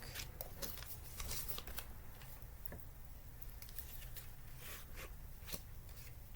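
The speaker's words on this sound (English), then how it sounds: "Let me just set the cards up real quick." Tarot cards are shuffled and laid out at close range: soft, papery riffles and light slaps and taps come in uneven bursts over a low background hum, with no voice.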